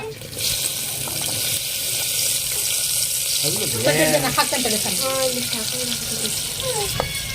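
Cumin and pav bhaji masala sizzle in a hot pan, giving a steady, close frying hiss that runs throughout, while a voice speaks briefly over it partway through.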